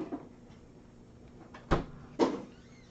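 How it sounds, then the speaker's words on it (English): A cupboard door knocks and bangs twice as it swings open, two sharp thumps close by in a quiet room. "They're saying Egypt opened the door."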